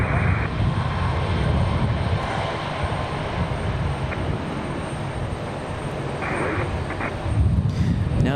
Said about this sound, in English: We've got that 737 from New Pacific right here